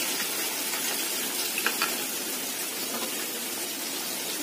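A paste of onion, ginger, cumin, turmeric and torn green chilli fries in oil for egg curry, making a steady, dense sizzle up close with a few faint bubbling pops.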